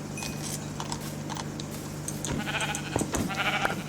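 Sheep bleating in the Minecraft video game, several short game-style bleats over a steady background hum, with clinking game sounds mixed in and no talking.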